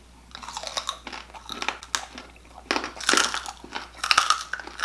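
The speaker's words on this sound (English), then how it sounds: "Show them the crunch, okay?" Crunchy pork belly topped with salsa is bitten and chewed up close, loud crisp crackling bites repeating over about five seconds with wet chewing between them, no talking.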